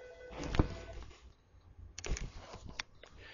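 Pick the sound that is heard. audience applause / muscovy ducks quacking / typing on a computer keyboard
typing on a computer keyboard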